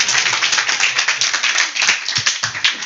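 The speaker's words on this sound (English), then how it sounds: "give him a clap." A small audience at a devotional Sunday feast claps for a drama performer, with brisk close applause filling the moment and a few sharper individual claps near the end.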